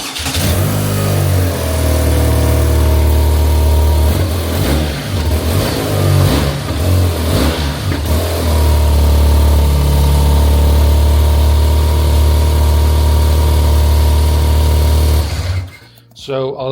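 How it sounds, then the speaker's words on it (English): A BMW R12 G/S motorcycle engine fitted with a DNA air filter runs loud and close, revving up and down in bursts over a rumbling idle before cutting out near the end. "So a little bit better sound, not as big as a difference with the stage 2 upgrade"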